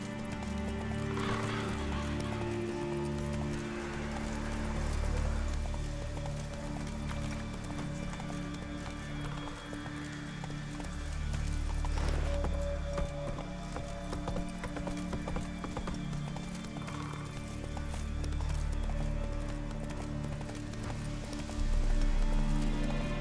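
Roach, a horse in The Witcher 3, gallops with a steady, close clip-clop of hooves and occasional whinnies over a low ambient game score, continuing throughout.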